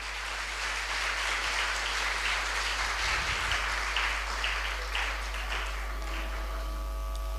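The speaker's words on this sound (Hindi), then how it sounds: "एक बार फिर से जोर से तालियां बजाएंगे।" An audience at a church women's conference claps continuously, a dense, even wash of hands at a moderate distance, holding steady for several seconds with no voices heard.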